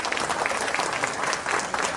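An audience at a press club inauguration claps for the chief minister, a dense burst of applause from a mid-sized crowd sustained throughout, with no voices over it.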